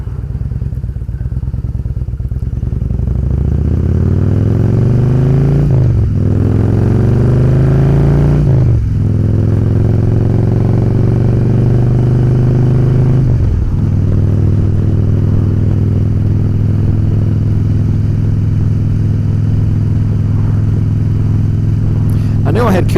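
A Harley-Davidson with a true dual Kiriakin aftermarket exhaust and a fresh stage 1 tune idles with a deep, loud rumble, then rises in three throaty revs before settling back to a steady idle.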